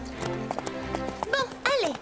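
Cartoon horse hooves clip-clop in a quick, even rhythm beneath voices talking, followed by a short whinny near the end.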